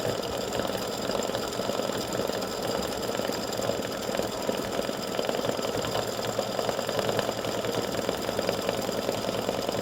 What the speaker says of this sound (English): So it's just doing a little satin stitching around that bottom part of the scarf